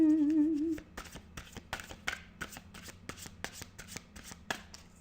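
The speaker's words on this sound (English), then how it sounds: "Well, now I'm done shuffling." Tarot cards being shuffled by hand, a rapid run of crisp riffling flicks and soft slaps after a brief opening tone, close and alone.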